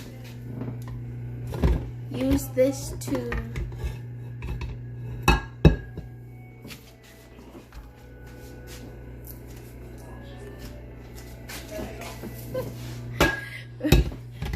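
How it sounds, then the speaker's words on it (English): A kitchen utensil scrapes cooked, stringy sweet potato flesh off for a pie, giving intermittent metallic clinks and scrapes against a bowl or pan over a steady low hum. "we're going to use this to scrape it off"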